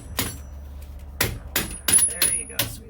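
Six sharp metallic hammer strikes ring out at irregular intervals, close and clanging, one leaving a faint high ring.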